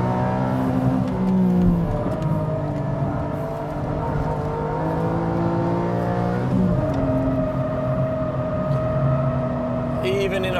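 A Porsche 718 GTS 4.0 sports car drives along a busy section of track over bumps, its engine droning loudly and shifting pitch as it eases off and picks up again, while someone talks over it.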